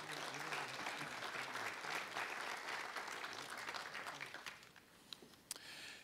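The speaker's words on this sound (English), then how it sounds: "Give him a nice round of applause" Applause at a city council ceremonial meeting for a veterans' motorcycle group commander, many hands clapping steadily before thinning out, a few last claps ringing out near the end.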